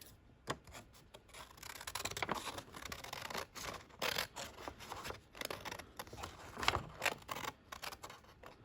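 Scissors cut through a paper envelope flap in close, quiet, repeated snips and rasping slides, the strokes coming in irregular bursts.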